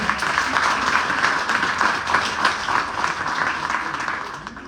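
Steady applause from an audience at a school cultural event at CONALEP in Ciudad Obregón, dense and sustained throughout, fading slightly toward the end.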